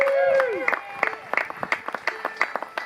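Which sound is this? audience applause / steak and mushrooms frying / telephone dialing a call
audience applause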